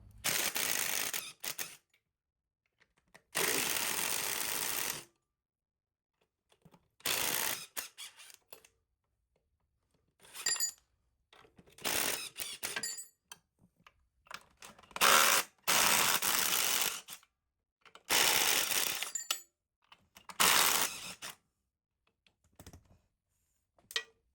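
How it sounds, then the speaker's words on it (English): A hand ratchet with a deep-well 9/16 socket backs off long U-bolt nuts on an EZGO golf cart during a lift kit install, in several close bursts of rapid clicking separated by pauses. "now we're gonna pop the 4 U-bolt nuts off. So that's 9/16. We use a deep well because they're pretty long."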